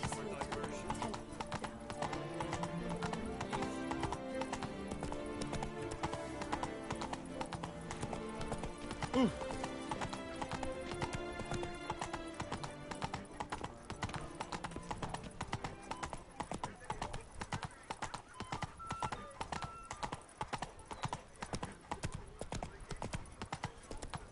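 Roach the horse clip-clops at a steady walking pace through a video game world, the hoofbeats close and continuous beneath ongoing speech and background game music.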